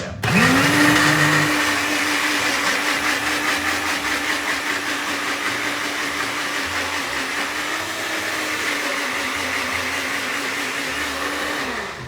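A blender runs steadily for about twelve seconds, whirring loud and close as it blends wild garlic pesto after cheese is added, its motor pitch holding constant with slight wavering before winding down.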